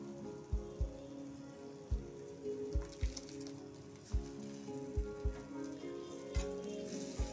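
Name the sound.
tomato paste added to sizzling spices in oil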